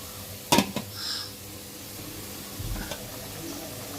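Turnips and chicken are stirred and fried in a pot: a couple of sharp metallic clinks from the spoon against the pot come early, then a low sizzle with faint scraping and a soft thump near the end, and no speech.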